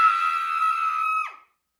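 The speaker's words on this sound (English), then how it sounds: "they let out a really loud scream" A loud, sustained high-pitched scream rings out for over a second from close by, then drops off and cuts to silence.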